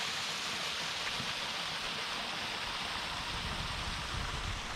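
A waterfall behind a lodge in Wales gives a steady, dense rush of falling water, loud and unbroken for the whole stretch, with no voices.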